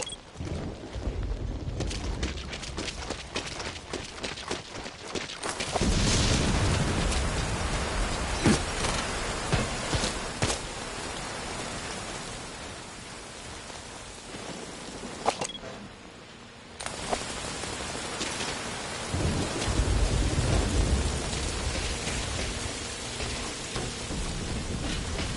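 Steady heavy rain hisses throughout the stormy night of Metal Gear Solid V: Ground Zeroes, with rumbling thunder swelling and fading in waves, close and loud with no talk.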